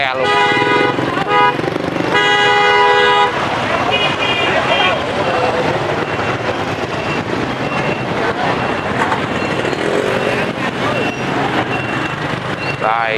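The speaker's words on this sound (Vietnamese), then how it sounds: "Xếp hàng kẹt xe luôn." Heavy traffic jam on a Saigon street, dense with cars and motorcycles, horns honking repeatedly in bursts over a constant loud roar of engines and crowd noise, with voices talking throughout.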